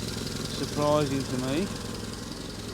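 A car engine idles steadily with a faint hiss from a leaking exhaust, running continuously beneath a man's nearby speech.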